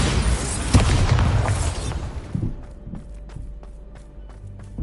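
A Bombarda spell explodes in the video game Hogwarts Legacy, a loud rumbling blast that fills the first two seconds and then decays, followed by quieter footsteps and light scattered impacts.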